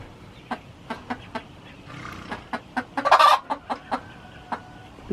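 Hens clucking in a new henhouse on a homestead, a series of short, sharp clucks spaced through the clip with a louder flurry of squawking midway, close and clear with no talking.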